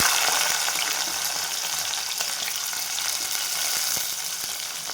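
Green chili and onion fry in hot oil tempered with mustard seeds and cumin, a bright steady sizzle close by with faint crackles, nobody speaking.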